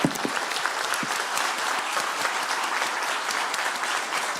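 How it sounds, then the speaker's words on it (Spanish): Dense, sustained audience applause fills a conference hall after a panel on climate change and communities in Latin America, many hands clapping steadily and evenly throughout. "Un aplauso para ellos."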